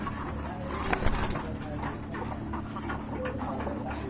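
Low, murmuring pigeon coos repeat through a busy, noisy background, with a brief louder rustle partway through.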